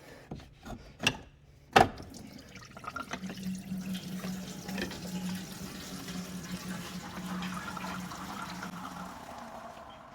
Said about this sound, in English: once you break it free, then coolant will start coming out.